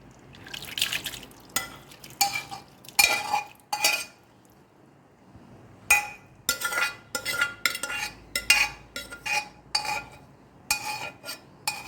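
Cooked beef added to potato curry and stirred in, heard as a series of close, wet clinks and scrapes of a spoon against the pot, coming in bursts with short pauses and no talking.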